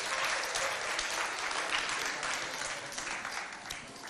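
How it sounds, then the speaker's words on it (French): A crowd at an evangelical school event in Mao gives continuous, moderately loud applause, with even, dense clapping that holds steady and eases slightly toward the end. "qu'on applaudit bien fort"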